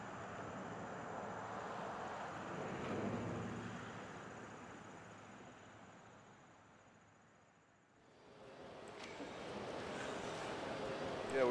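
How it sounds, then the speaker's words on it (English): Steady broadband roar of a jet airliner at an airport, loud at first, easing into a dip around eight seconds, then swelling again with a thin high whine as faint voices murmur underneath. "we're here waiting for Randy to get off the plane"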